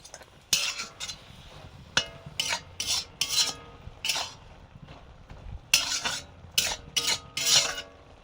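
Repeated clinking and scraping of a spoon against a bowl while gram flour batter is mixed with water and fried cumin and dried red chilli, irregular bursts of close stirring and tapping.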